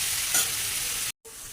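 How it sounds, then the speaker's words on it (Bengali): Mango pieces fry with salt and turmeric in a pan, a steady close sizzle with stirring scrapes that drops out briefly near the end, then resumes. "এইভাবেই ভাজা ভাজা করবো"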